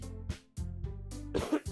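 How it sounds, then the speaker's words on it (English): Someone gives a few short coughs and throat-clears in quick succession, close and fairly loud, with brief pauses between the bursts. "I need to stop coughing, too."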